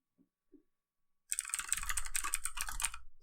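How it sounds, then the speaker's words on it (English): Rapid typing on a computer keyboard, dense fast clicking that starts abruptly after a near-silent stretch with a couple of faint knocks, then runs steadily and close up. "It's pretty cool here, so I can type very fast."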